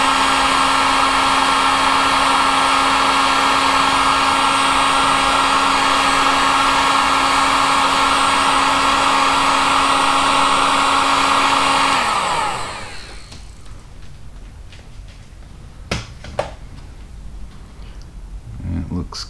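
A heat gun blows hot air during fuel pump work on a 2003 Toyota Matrix, a loud steady whine and rushing airflow that runs for about twelve seconds, then shuts off, leaving quiet shop noise and a few clicks.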